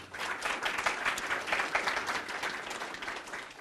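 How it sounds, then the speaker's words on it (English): Audience applause fills a budget presentation hall, a steady wash of many hands clapping at moderate distance, sustained evenly without pause or voices. "Can we give Tom a round of applause"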